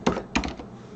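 Quick keystrokes on a computer keyboard while entering a WSL command, two short clusters of clicks close up, with no speech.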